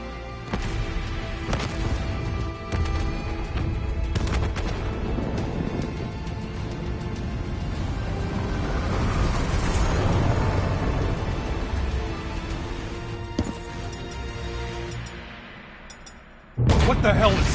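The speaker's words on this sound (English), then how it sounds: "Hendricks, we have multiple explosions across the facility." Explosions rumble across a facility in the video game Black Ops 3, with scattered sharp blasts and crashes over a dense, roaring battle backdrop, ending in a louder burst.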